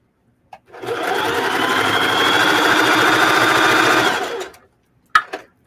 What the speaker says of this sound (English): just make sure your needle stays down as you sew.